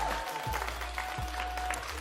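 An audience applauds at a live comedy show, with a steady wash of clapping from the crowd. A voice sounds faintly over the clapping.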